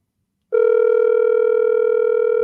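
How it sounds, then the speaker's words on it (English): A phone line ringback tone waiting for pickup during a call-in talk show, starting after a brief silence as one steady, loud, buzzing hum that continues to the end. "Let me try he and see if he go pick up the phone."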